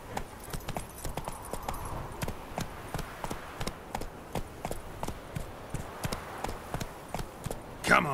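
The horse Roach gallops in The Witcher 3 video game, its hooves clip-clopping in a brisk, even rhythm of distinct, fairly close thuds that keep going throughout.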